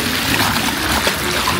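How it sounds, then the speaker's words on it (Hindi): Cold mountain stream in Jibhi during the monsoon, flowing over rocks nearby as a steady broadband rush and trickle, no voices over it. "हाँ यहाँ पे ये पानी है।"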